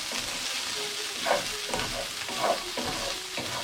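Garlic ginger paste stirred into onion, green pepper and chilli in a hot pan, a spoon scraping in repeated strokes over a steady close sizzle.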